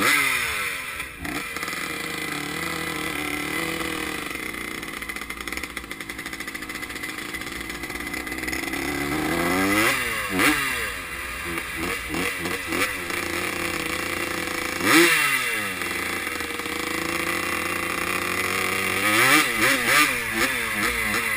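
A 1979 Suzuki RM125 two-stroke motocross bike revs repeatedly at close range, sharp throttle blips rising and falling in pitch over a steady idle, with several strong revs spaced across the stretch.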